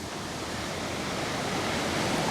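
Water in a creek in gold-prospecting country rushes continuously, a dense, even wash of noise with no breaks, fairly close to the microphone.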